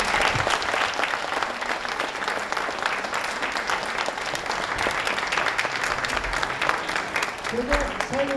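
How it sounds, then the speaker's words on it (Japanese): A crowd claps steadily after a kagura Gongen-mai dance performance at a kagura festival, dense sustained applause with a voice rising briefly near the end. "もう一度大きな拍手をお願いいたします"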